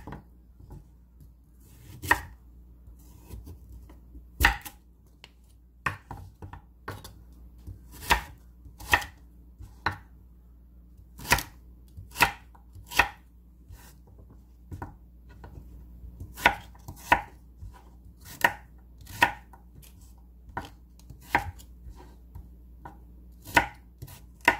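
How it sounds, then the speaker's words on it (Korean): A knife cuts potato into cubes on a cutting board, sharp distinct chops landing in a loose irregular rhythm, close and clear against a quiet room with no talking. "썰어 볼게요"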